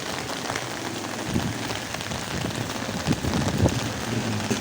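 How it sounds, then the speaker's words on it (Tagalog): Rain falls steadily on a surface with a soft hiss, and scattered heavier drops patter and splash nearby. "Ito yung basa oh. Ulan."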